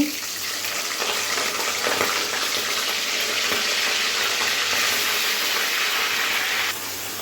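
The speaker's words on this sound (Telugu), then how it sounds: "చికెన్ ముక్కలను అన్నీ ఇందులో వేసుకుని వేపేసుకోవచ్చండి" Chicken pieces fry in hot oil with a loud, continuous close sizzle and hiss that stays steady throughout, then drops slightly in level just before the end.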